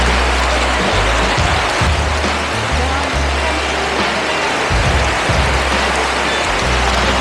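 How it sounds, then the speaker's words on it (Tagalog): Heavy rain pouring down outdoors near a small wet market, a dense, loud broadband hiss with low rumbling gusts, steady and enveloping throughout. "Grabe, lakas ng ulan."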